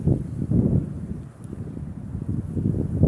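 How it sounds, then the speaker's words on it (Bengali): Steady low rumbling strong wind in Bangladesh buffets the microphone, with gusts swelling and easing throughout and no voices. "এমন বাতাসের বাতাস দেখেন"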